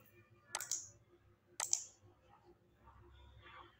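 Keys on a computer keyboard clatter in two short, sharp bursts about a second apart, close and fairly quiet, followed by faint soft tapping in a quiet room.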